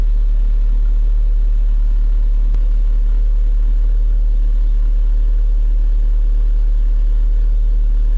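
An off-roader's engine idles steadily while warming up, a constant low rumble with a loud, even drone throughout and no talking.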